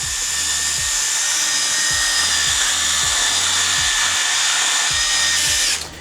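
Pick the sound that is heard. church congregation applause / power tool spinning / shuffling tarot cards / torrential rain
power tool spinning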